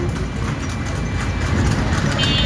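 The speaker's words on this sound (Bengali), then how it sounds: "দেখছো ঘোড়াটা যাইতেছে কেমনে" Hooves of a horse pulling a carriage clip-clop steadily on a road in Dhaka, partly buried in a constant roar of traffic and engine noise.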